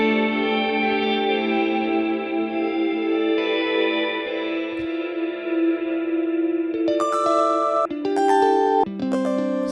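Electric guitar played through a Fractal Audio Axe-FX II reverb effect in an Ableton Live pack: a sustained, washy chord rings and fades in a long reverb tail, then a run of short plucked notes, each with its own echoing decay.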